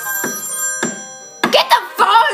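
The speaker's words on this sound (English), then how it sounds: "Get the phone, Fatsy!" A telephone bell rings twice in evenly spaced bursts, followed by voices talking over the ringing.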